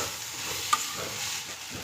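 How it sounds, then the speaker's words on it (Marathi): Okra mixed with turmeric is stirred in a hot frying pan, a soft continuous sizzle with one brief scrape of the utensil. "आता ही भेंडी आता यामध्ये व्यवस्थित मिक्स करून घ्यायची आहे म्हणजे चांगली हालून घ्यायची आपल्याला"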